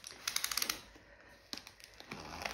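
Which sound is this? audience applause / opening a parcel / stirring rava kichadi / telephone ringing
opening a parcel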